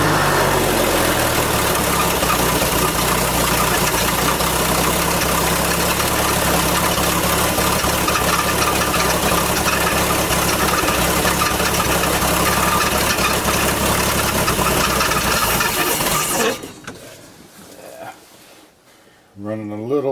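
A 1958 Ford F100 engine idles loud and steady right after a Holley carburetor rebuild, running slightly lean, with a continuous rough rumble for most of the clip before it cuts off, then a brief quieter pause and a faint restart.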